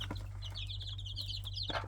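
A flock of chickens and young chicks cluck and peep in quick bursts while competing over a banana, close by and fairly clear, with a few sharp calls near the end.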